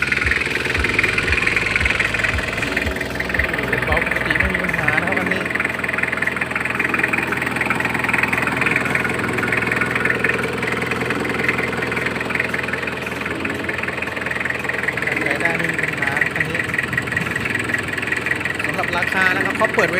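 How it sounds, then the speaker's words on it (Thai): A used Toyota Hilux Tiger single-cab pickup sits with its engine idling, a steady loud mechanical rumble with a ticking, knocking rhythm that runs throughout, up close. "พาไปดูเครื่องแป๊บนึงนะ"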